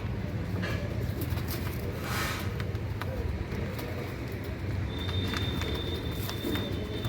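Domestic malbahi pigeons coo softly and intermittently at close range, under steady background noise with an occasional distant vehicle.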